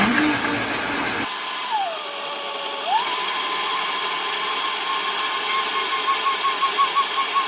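A blender whirs through homemade vegan cashew cheese sauce, starting after a short burst of other noise, then a steady motor whine that dips in pitch briefly as it loads and recovers, continuing alone and close.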